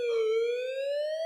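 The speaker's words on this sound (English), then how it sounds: "Why are the police car pulling up there?" A police car siren wails steadily in a single long, smooth tone that slowly rises in pitch, clear and fairly loud with no voices over it.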